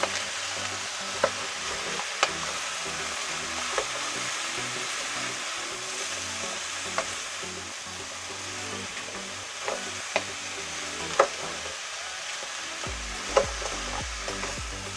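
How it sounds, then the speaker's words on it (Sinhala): A fish mixture is stirred in a hot pan, with a loud, constant frying hiss broken by scattered sharp clicks and scrapes of a utensil against the pan. "ඒක හොඳට කලවම් කරගන්න"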